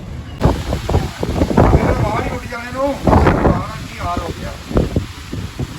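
A strong storm wind roars and gusts around a house with torn roof sheeting, with a low rumble in the mix and a voice talking over it throughout.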